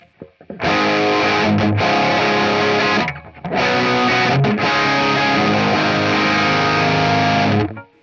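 Overdriven crunch electric guitar through a ToneX device running a CGT M3SA profile: loud, distorted sustained chords ring out, with two brief pauses between strums, alone with no voice.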